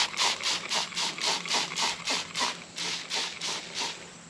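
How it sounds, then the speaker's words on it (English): Scent-free spray being misted over hunting gear, a series of about a dozen short, rhythmic hissing bursts in quick succession, close and moderately soft, with no talking. "I'm going to spray down everything with a little bit of this scent-free spray"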